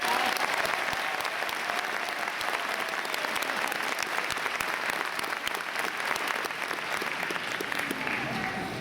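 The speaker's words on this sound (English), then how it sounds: "Please give them and each of yourselves a round of applause." A graduation audience at a 2016 high school commencement bursts into sustained applause, dense steady clapping filling the whole stretch at even loudness with a faint crowd murmur beneath.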